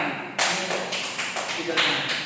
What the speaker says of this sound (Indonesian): Tepuk tangan untuk Nana.